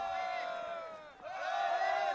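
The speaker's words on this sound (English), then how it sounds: "They're cheering every play now." Stadium crowd at a rugby match in the X-League roaring and cheering continuously, a dense wall of voices with whoops rising and falling, a brief dip then swelling again.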